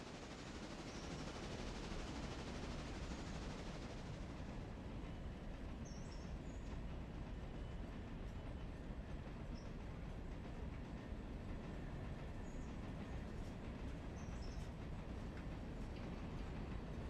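A train hauling log cars in the Railroader video game, a continuous rumbling roll with faint rhythmic clatter, steady and low in level throughout, with no talking.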